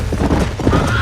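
Horses in the Western video game Red Dead Redemption clip-clop and whinny nearby, a brief loud burst of hooves and a neigh.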